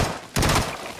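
A single short burst from a Vector gun with 9mm in the video game Fortnite cracks out sharply after a brief quiet moment, then fades quickly.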